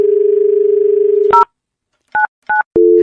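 A telephone dial tone hums steadily, then a series of touch-tone keypad beeps sounds as a number is dialed, ending with the return of a ringing tone, all close and clear with no talking.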